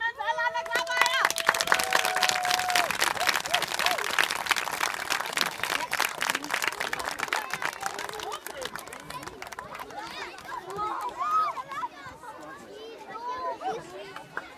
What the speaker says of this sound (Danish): mens alle andre klapper af jer